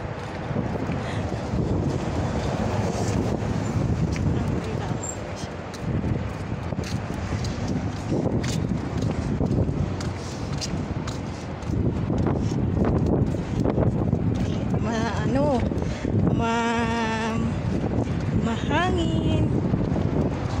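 Strong wind buffets a microphone outdoors, a steady loud rumble roaring throughout, with a voice speaking briefly near the end.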